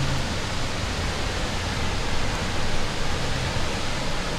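Broad, steady roar of the waterfall on the Wailuku River in Hilo, water crashing continuously and loudly at close range with no voices.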